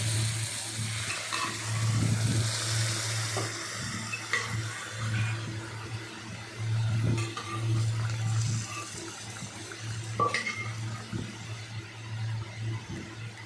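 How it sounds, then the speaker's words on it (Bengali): Boiled peas sizzle steadily as they fry in a pan, with a continuous hiss broken by occasional scrapes and clinks of stirring, close and moderately loud with no talking. "তারপর ভালোভাবে ভাজলাম ভালোভাবে নাড়াচাড়া করলাম তারপরে ওই সিদ্ধ মটরগুলো দিলাম"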